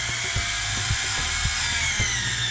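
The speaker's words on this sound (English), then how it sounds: "drill some holes with this little drill" A small battery drill boring little holes, its motor whine holding steady in the foreground, with short regular bursts as each hole is cut.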